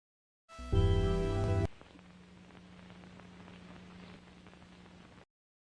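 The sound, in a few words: loud rain in video game Fatum Betula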